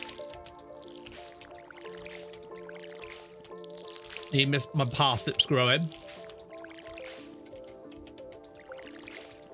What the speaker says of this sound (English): I need to water me crops